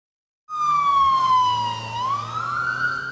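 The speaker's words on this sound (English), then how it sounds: "Police sirens and flashing lights was all you could hear in this Winston-Salem neighborhood" A police siren starts abruptly and wails loudly, its pitch sliding down then back up, close by, with an engine rumble underneath.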